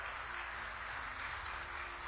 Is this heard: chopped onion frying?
no